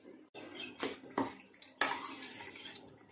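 Chicken marinade is stirred with milk in a bowl, giving a few close, wet clinking and sloshing strokes against the bowl, spaced unevenly, with no talking.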